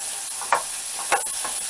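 Food sizzling in a greased old frying pan on a cabin stove, a soft steady hiss with a few brief scraping stirs, close by and alone without talk.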